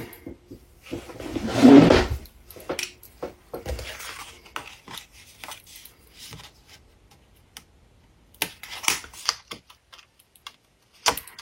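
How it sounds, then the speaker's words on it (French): Scissors snip paper in short, irregular cuts, crisp and close, with a louder rustle of paper handling near the start and scattered pauses. "on va faire tout avec les ciseaux."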